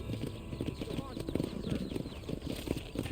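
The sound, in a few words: horse hooves and snorting in Red Dead Redemption video game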